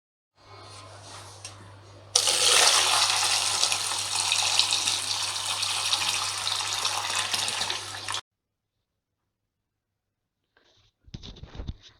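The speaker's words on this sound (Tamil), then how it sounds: "ஸோ ஃபஸ்ட்டு பொட்டேட்டோஸ் எடுத்துகிட்டு நல்லா வாஷ் பண்ணி க்ளீன் பண்ணிக்கிங்க." Tap water runs over potatoes being washed in a kitchen sink, a steady loud gush for several seconds, then a pause and a brief second burst of splashing near the end.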